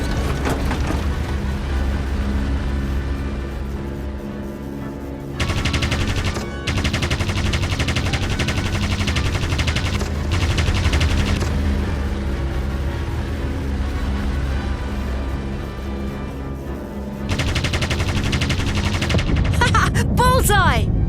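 A Vickers machine gun firing in the World War I flight game Aviators, heard as long, loud, sustained bursts with brief gaps between them. The steady drone of an aircraft engine runs underneath.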